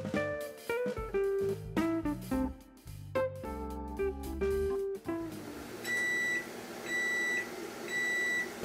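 Kitchen oven finishing its preheat for baking bread, giving three evenly spaced electronic beeps after a stretch of background music.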